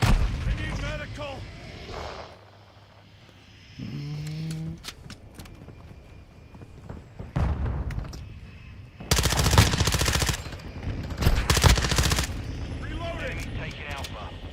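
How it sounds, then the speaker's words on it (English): Automatic weapon fire from a BAS-P rifle in Call of Duty Modern Warfare II, with loud rapid bursts, scattered single shots and explosive blasts between quieter gaps, and shouted in-game voices in the background. "Taking effective fire!"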